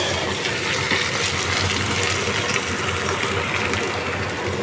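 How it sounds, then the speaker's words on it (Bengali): Water poured into a pan of simmering beef curry, a steady close gushing hiss that holds at an even level throughout with no pauses and no talking. "এখন পানি দিয়ে দিই"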